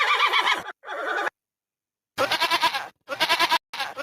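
A donkey brays close by in loud, harsh, rhythmic bursts, with several heaving calls separated by short pauses and a longer silence in the middle.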